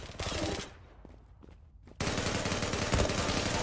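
Rapid automatic gunfire in the online shooter Zula, loud bursts of firing with a brief quieter lull in the middle before a sustained, dense volley resumes.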